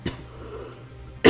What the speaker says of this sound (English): I do apologize, like, my cough,